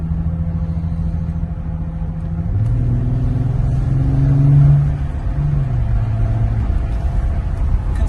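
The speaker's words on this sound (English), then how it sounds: "I am going to kick the accelerator down for you so you can hear what this is like." Early-2000s Bentley Continental GT accelerating hard from inside the car, a steady engine drone swelling as the revs climb and then easing back, continuous and fairly loud with no talk.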